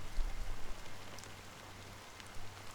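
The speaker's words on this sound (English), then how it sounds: "the rain is really loud" Steady rain falls in the Honkai: Star Rail video game, a soft continuous hiss with faint scattered drop patter and a low hum underneath, fairly quiet and even throughout with no talking.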